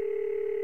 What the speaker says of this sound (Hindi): मैं एमा और सुला को फोन पर बता देता हूँ कि हम नहीं आ सकते